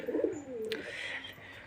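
Pet pigeons coo softly, a single low, rolling throaty call with a faint chirp over quiet room noise.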